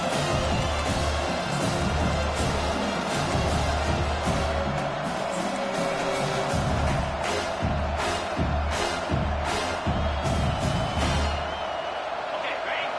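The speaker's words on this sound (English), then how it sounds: "Decibels rising as the crowd gets behind this defense on 3rd down." Stadium crowd noise from the NCAA 25 football video game swells into a loud, steady roar during a third-down defensive stand, with a commentator talking over it throughout.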